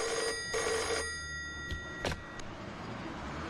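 A telephone rings at a road check post after a call is placed, with a few electronic ring bursts over a low background rumble and one sharp click, with no talking.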